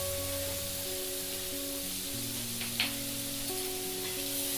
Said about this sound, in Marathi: 2 मिनिटं हलवून घ्यायचे